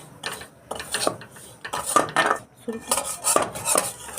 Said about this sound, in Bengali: সুজিটাকে দিয়ে ভালো করে একটু নেড়ে নিতে হবে